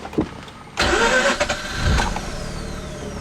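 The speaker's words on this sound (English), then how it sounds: "the rotary engine is probably one of the weirdest sounding engines at startup" A 2004 Mazda RX-8 rotary engine cranks briefly, then catches and fires up loudly, settling into an uneven, buzzy idle with a slight rise in revs.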